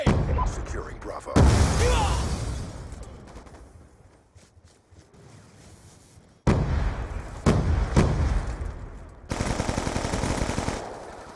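Gunfire and explosive bursts from Black Ops 2 multiplayer combat, with a loud blast near the start, a quieter stretch, then renewed heavy firing and bangs, mixed with in-game voice callouts.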